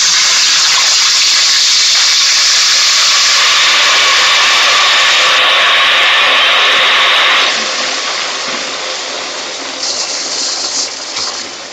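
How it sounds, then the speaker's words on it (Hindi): Garlic and ginger hit hot oil in a cooking pot for chicken achar gosht, setting off a loud, continuous sizzling hiss that gradually eases and thins toward the end. "अब इसमें हम डालेंगे सबसे पहले लहसुन अदरक"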